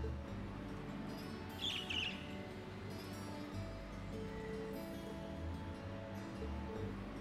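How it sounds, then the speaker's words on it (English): Short bird chirps in the Trails of Cold Steel video game, a brief cluster of high tweets over a low, steady ambient game backdrop with faint rustling, and no talking. "Bird."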